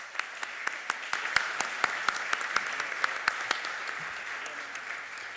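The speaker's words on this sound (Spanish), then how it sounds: "un último aplauso a nuestros panelistas" Seminar audience applauding the panelists: a room of steady clapping at moderate distance that holds evenly for several seconds, then begins to thin toward the end.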